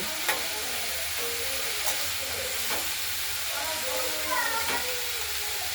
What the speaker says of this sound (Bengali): বাঁধাকপিগুলোকে আমরা একটু ভালোভাবে নেড়ে ছেড়ে দিলাম